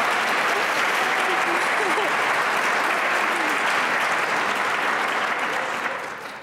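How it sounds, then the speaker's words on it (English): Loud, dense applause from an audience at a physician assistant white coat ceremony, sustained steadily for several seconds before beginning to taper off at the end. "I think that probably deserves a round of applause"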